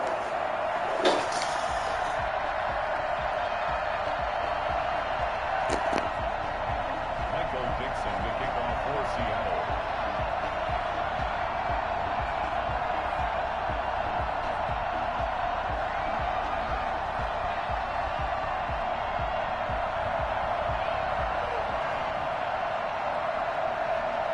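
Stadium crowd in an EA Sports NFL video game ahead of a Seattle Seahawks versus Dallas Cowboys Week 6 matchup, a steady loud roar of cheering sustained throughout with a few sharp thuds near the start.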